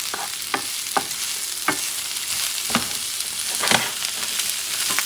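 Shrimp, peas and other ingredients for pancit bihon sizzle in a hot pan, with a steady frying hiss and repeated sharp utensil scrapes and taps as they are stirred every second or so.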